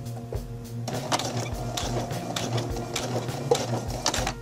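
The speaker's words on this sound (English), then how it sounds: "Here I'm using the hand wheel to control how deeply my zigzag goes in." A sewing machine is turned slowly by its hand wheel while sewing a zigzag blind hem on pants, producing irregular close mechanical clicks and clacks over a steady low hum.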